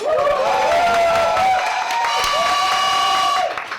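A crowd at a host bar cheers and whoops loudly for a female customer during a game, with raised voices and shouting sustained for several seconds before fading at the end.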